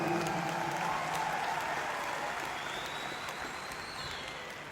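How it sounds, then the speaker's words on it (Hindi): An audience at a corporate event applauds, sustained clapping that stays loud and even before slowly fading over a few seconds. "एक जोरदार तालियां"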